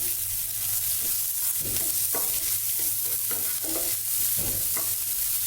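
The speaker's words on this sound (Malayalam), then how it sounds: "ഇപ്പോൾ നമ്മൾ കട്ട് ചെയ്ത് വെച്ചിരിക്കുന്ന സവാള, ക്യാരറ്റ് എന്നിവ ഇട്ട് കൊടുക്കാം" Chopped medium onion and grated carrot sauté in a pan for an oats dish, with a constant low sizzle under a low hum and irregular spatula taps and scrapes repeating nearby.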